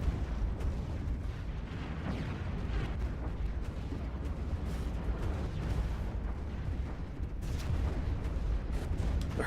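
Space battle with missiles, fighters and bombers in the Stellaris video game: continuous rumbling booms and layered explosive bursts, dense and loud with no pauses, several sharper blasts near the end.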